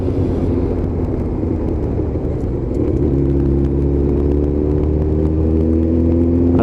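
A car drives on a narrow countryside back road, a steady loud engine rumble with rising tonal whir as it accelerates past, heard close with no talk.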